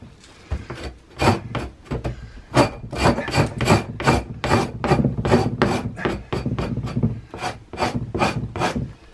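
A frozen beaver hide is frost-scraped in the cold outdoors, a rapid series of loud rasping strokes, close and rhythmic, with brief pauses between bursts and no talk.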